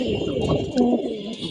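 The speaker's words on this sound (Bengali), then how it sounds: "এখানে এই কবুতরগুলো আছে" Pigeons coo steadily in a loft, soft throaty murmurs overlapping close by with a constant hum behind them and no talking.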